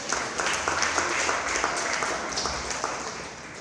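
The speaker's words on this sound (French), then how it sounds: "Ça s'applaudit, s'il vous plaît." A crowd applauds at an outdoor Congolese music festival after a performer is introduced, a dense, moderately loud clapping that continues steadily and eases slightly toward the end.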